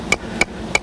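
A frozen banana strikes a nail three times in steady succession, producing sharp, close, loud knocks in the outdoor cold.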